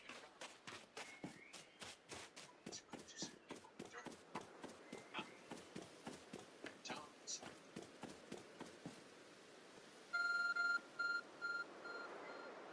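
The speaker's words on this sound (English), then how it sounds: "There's a glowing, beeping object over there." Steady clopping footsteps in Pokémon Legends: Arceus, then a few short, bright electronic beeps from a glowing phone repeating near the end.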